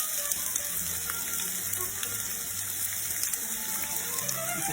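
Herb-crusted chicken tenders browning in a pan, a steady close sizzle and crackle with occasional pops, no voices.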